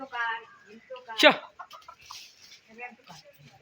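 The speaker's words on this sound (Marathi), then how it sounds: "कोंबडी लिमणीच्या झाडावर बसलेले उठवले त्यांना" Chickens perched in a lemon tree beside a Konkan village home cluck in short, choppy bursts, one sharp loud squawk standing out, with soft voices nearby.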